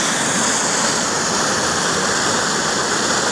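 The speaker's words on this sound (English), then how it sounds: "the waterfall is really running nice" Snowmelt waterfall pouring into a quarry at Harrington State Park, a loud, close, unbroken rushing roar of falling water throughout, with no talking.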